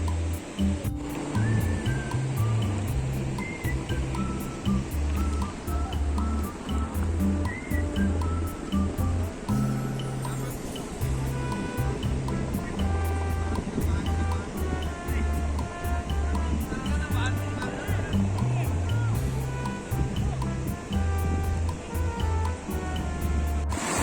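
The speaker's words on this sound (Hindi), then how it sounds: "कल कल की आवाज़ करती हुई ये रिवर, जिसमें दूध जैसा पानी है" A milky-white river in Pahalgam rushes and babbles steadily, a loud, continuous wash of flowing water that fills the whole stretch without pause.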